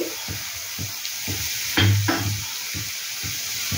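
Sliced onions hitting hot oil in a pan for a stuffed ash gourd fry, a steady close sizzle broken by repeated scraping stirs and one louder burst as the onions go in.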